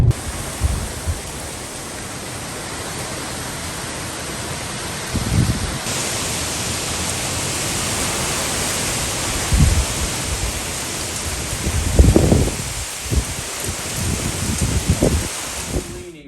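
Hurricane Ian's heavy rain and wind roar as a steady, dense wash, with gusts and thumps breaking through at intervals.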